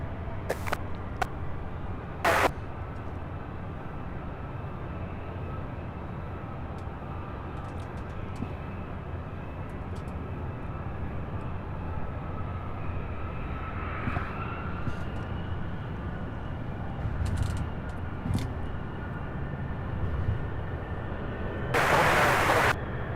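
Boeing 747 freighters, a 747-400 and a 747-8, spooling up for takeoff at an airport, a steady broad engine roar at a distance with brief bursts of wind-like noise on top.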